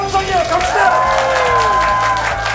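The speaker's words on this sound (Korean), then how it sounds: "박수 함성이요" Applause and cheering from a studio audience at a choir's talk concert, a steady crowd wash of clapping and shouts that runs throughout, with voices and tonal sounds mixed over it.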